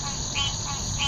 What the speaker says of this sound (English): Hear the frogs? Sound like bed springs.